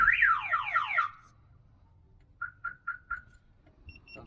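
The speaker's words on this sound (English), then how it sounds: "And there goes the warning and the alarm." A Viper car alarm on a Mercedes 230SL whoops in rapidly sweeping tones, then goes quiet before four short chirps sound in a row.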